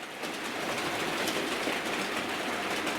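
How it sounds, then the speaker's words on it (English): A Hornby TTS digital model locomotive runs on analogue track, producing a continuous close whirring motor hum with faint wheel rattle, steady throughout with no talking. "the Hornby TTS locomotives running in analogue are"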